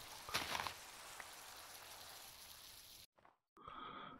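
Rain falls in Minecraft as an even, hissing patter that runs for about three seconds, then briefly cuts out and returns.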